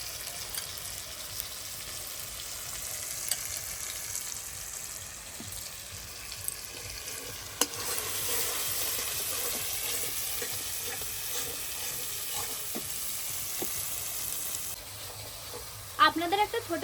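Fish marinade masala for a katla roast sizzles and fries steadily in a hot kadai, a continuous hiss with occasional scrapes and a brief clatter near the end.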